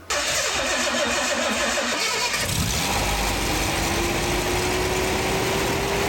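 A Jaguar XJC engine, just rebuilt after a cylinder head refit, cranks briefly and fires up, then settles into a steady, loud idle with a slowly rising whine.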